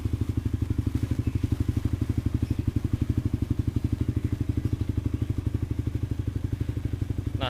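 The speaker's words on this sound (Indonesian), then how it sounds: "gue suka banget soal tipe-tipe suara knalpot yang kayak gini" Motorcycle exhaust idling outdoors with a deep, bassy, mellow tone, a steady rapid low thumping pulse held close and even throughout, no voices.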